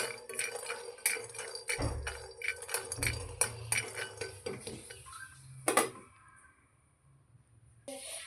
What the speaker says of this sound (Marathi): शेंगदाणे घेतलेले आहेत ते पण भाजून घ्यायचे